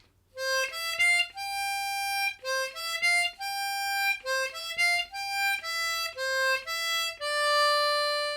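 A harmonica picks out clean single notes in a short melodic phrase, each note distinct with brief gaps, close and clear, ending on a held tone.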